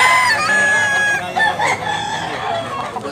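A sweater gamecock, a yellow-legged bullstag, crows loudly and close by, one long drawn-out call, followed by softer clucking and barnyard noise.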